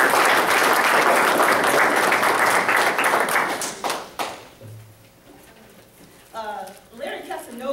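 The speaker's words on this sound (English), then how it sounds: "We definitely want to give Rudy a round of applause for all the hard work he's done." Applause from the audience at a city council meeting, clapping for about four seconds and then dying away, followed by a speaker resuming talk at the microphone.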